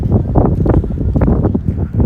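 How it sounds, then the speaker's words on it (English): Gusty wind sweeps across an open pier, buffeting the microphone with a steady low rumble that swells and dips for about two seconds, with no voices. "Got some windy conditions here."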